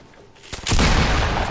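Gunfire in Fortnite: a quiet lead-in, then a sudden sharp shot or burst, followed by sustained loud shooting and booming.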